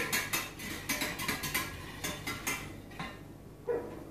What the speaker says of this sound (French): Donc je mélange au fouet